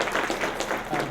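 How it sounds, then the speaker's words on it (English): An audience claps in a brief burst of applause after a talk, a dense steady patter of many hands at moderate volume with a little voice mixed in. "Guys, just a round of applause for you guys."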